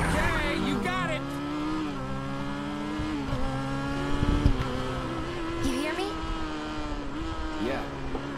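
A car engine in Final Fantasy VII Remake revs and races with rising, shifting pitch and occasional tire squeal, loud and close, with characters talking over it.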